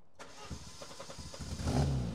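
Peugeot 205 petrol engine cranking briefly with a rapid starter whir, then catching and rising into a rough, throaty idle, recorded close by outdoors.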